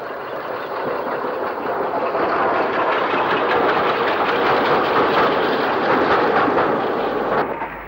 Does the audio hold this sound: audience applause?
no